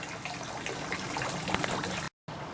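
Water trickles and splashes steadily while a garden is watered outdoors, a continuous close wash of liquid with a brief gap near the end.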